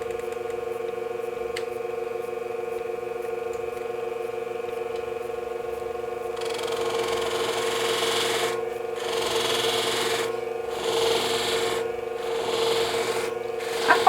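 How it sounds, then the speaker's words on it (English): Long groomer shears polished on a Scimech sharpener under firm pressure, a steady motor hum first, then a louder gritty rasping with short rhythmic pauses between passes. "I probably do a little bit more pressure when I'm polishing than when I'm actually sharpening"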